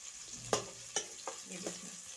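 Baghar for masaladar chhole frying in a pan while being stirred on low heat, a steady soft sizzle broken by a few sharp scraping clinks of the spoon against the pan.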